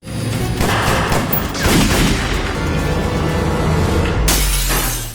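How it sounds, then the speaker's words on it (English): A violent film gunfight plays out as a loud, dense barrage of gunshots and crashing impacts, with breaking glass and booming blasts merged into one continuous, chaotic roar over about five seconds. "A violent gunfight erupts"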